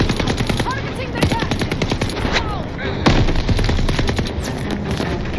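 Rapid, loud gunfire in the Call of Duty Vanguard campaign, overlapping machine-gun bursts and single shots crackling close by in a dense, relentless barrage with occasional heavier booms.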